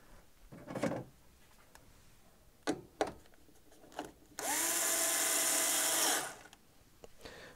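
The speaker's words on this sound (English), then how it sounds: "we can go ahead and start putting some of the screws back in" A power drill drives screws back into the wood of a Bally's The Game Show pinball machine during a rebuild. A few short, sharp bursts give way to one steady, loud whirring run of about two seconds, with no talk.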